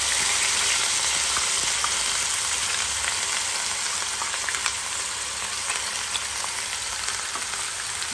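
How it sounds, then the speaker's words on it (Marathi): Ground masala spices frying in hot oil in a pan while cooking a capsicum curry, a steady dense sizzle with crackling throughout, close and continuous with no talk. "आता तेलामध्ये आपण जो मसाला केलेला आहे तो मसाला मी टाकणार आहे"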